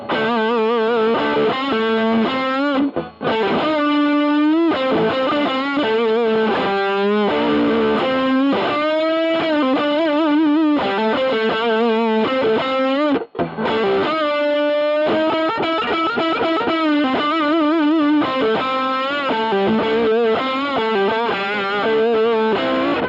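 Distorted electric guitar plays a bold lead of four repeated pentatonic notes, with bends and wide vibrato ringing out loudly and continuously.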